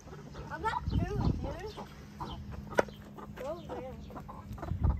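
Chickens in a ranch chicken coop cluck and squawk close by in short bursts, while people talk over them.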